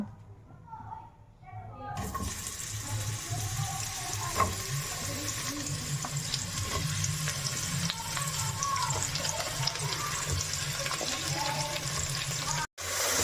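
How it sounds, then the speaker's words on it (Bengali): Mushrooms frying in hot oil in a pan while a Bengali vegetarian rice dish is cooked, giving a steady broadband sizzle that continues throughout under occasional talk. "তেল গরম হয়ে গিয়েছে, আমি প্রথমে মাশরুমগুলো দিয়ে ভেজে নেব।"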